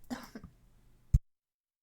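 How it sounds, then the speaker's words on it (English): A short, muffled cough-like burst, close and abrupt, following brief faint sounds, then silence. "I had to cough, so I'm very sorry"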